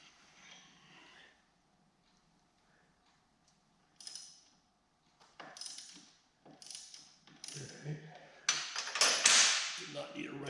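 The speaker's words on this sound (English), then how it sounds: "up top, we have a 12mm nut and bolt. So we'll loosen that." A 12mm nut and bolt being loosened at the top of a GPZ Turbo motorcycle fork, heard as a series of short metallic clicks and creaks in separate bursts that grow louder and busier toward the end, close up and with no talk.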